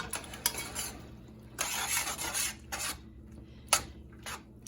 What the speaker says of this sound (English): Just gonna stir that up. Get that butter melted in there